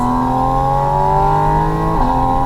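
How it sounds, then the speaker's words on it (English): Porsche Boxster Spyder RS flat-six drawing in air through intakes behind the seats, a steady loud engine drone with layered harmonics climbing slowly, then a brief dip and shift near the end. "that booming resonance has been replaced by the sound of suction from over your shoulders"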